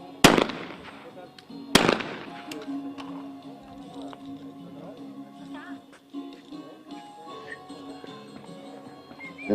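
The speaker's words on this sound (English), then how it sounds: "The athletes of the two teams have the right for a test fire." Two sharp shotgun blasts during test fire at a mixed team skeet shooting final at an ISSF World Cup in Cyprus, loud and about a second and a half apart, followed by a commentator talking over crowd murmur.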